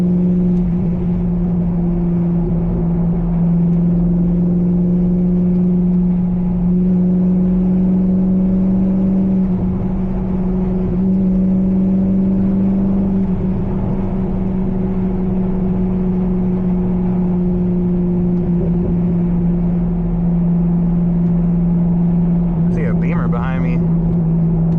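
A C5 Corvette engine warms up with a steady, loud, close idle drone, its pitch rising and dipping slightly in mild revs throughout, and a brief voice near the end.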